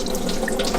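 Coolant pours steadily from a BMW E46 330xi water pump into a drain pan, a continuous close splashing stream with no talk.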